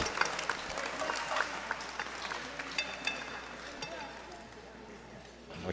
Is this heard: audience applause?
yes